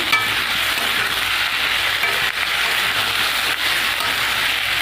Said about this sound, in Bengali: জিরে বাটাটা দিয়ে একটু কষিয়ে নেব